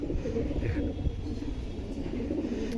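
Racing pigeons in a breeder's loft cooing, low soft coos blended into a continuous murmur of birds, close and moderately loud with no talk.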